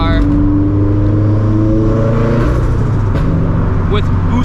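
A turbocharged Subaru FRS making around 400 horsepower pulls hard on the highway, its engine loud and rising steadily in pitch with turbo whine, ending in sharp pops and brief shifts, with a voice talking over it.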